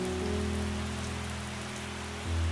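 Steady rain falling on a surface, a dense continuous hiss with a low tonal hum underneath, unchanging and alone without voices.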